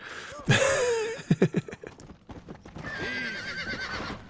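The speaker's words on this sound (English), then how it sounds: "let's get on our horsey and run away" A horse in the video game Red Dead Redemption gives a loud close whinny, then a quick run of hoof clip-clops, followed by a second, softer neigh.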